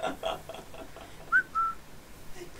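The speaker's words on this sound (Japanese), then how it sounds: "口笛吹いてんだけど" A person whistles straight into a microphone, giving two brief, thin, airy notes after some breathy noise, heard up close and alone.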